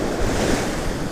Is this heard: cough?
no